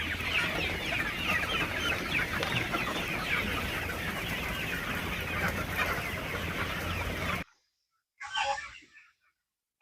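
Sonali chickens on a poultry farm, a dense chorus of many birds clucking at once, loud and continuous, then cutting out abruptly, followed by a single brief burst of clucking.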